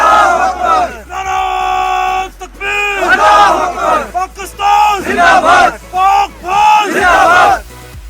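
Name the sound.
Pakistani army soldiers chanting patriotic slogans at K2 base camp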